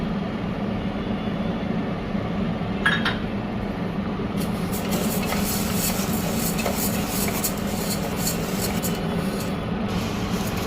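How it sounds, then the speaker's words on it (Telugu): Toor dal dry-roasting in a pan while being stirred, giving a steady gritty rasp over a constant low hum, with a few brighter scraping bursts and no talking. "ఈ కందిపప్పు మనము గట్టిగా వచ్చే వరకు బాగా వేయించాలంటే అప్పుడే బాగా వస్తుంది"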